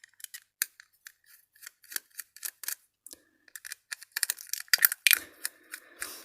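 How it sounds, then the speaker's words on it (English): Small, crisp clicking and scraping from a screwdriver unscrewing a module on a malfunctioning high voltage pink ring, close up, a quick irregular series of ticks that gets busier and louder near the end, with no speech. "Let's unscrew this module and I'll show you it."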